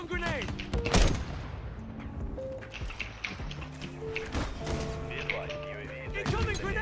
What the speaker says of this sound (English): Throwing a stun grenade.